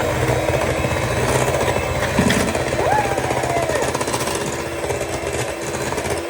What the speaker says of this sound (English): And now we whisk.